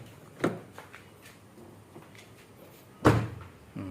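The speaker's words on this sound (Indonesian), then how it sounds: "Ini nutup pintunya tuh masih enak banget nih." Two solid thunks of a 1994 Toyota Corolla's door shutting, a lighter one early and a heavier, louder close near the end, with quiet room tone between.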